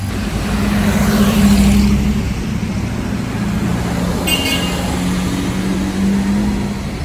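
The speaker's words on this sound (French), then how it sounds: "Incroyable cette SVJ." A Lamborghini Aventador SVJ moves through Sunday-night traffic in Monaco, a loud, steady engine and road rumble that swells briefly and then holds, with general traffic noise around it and no talking.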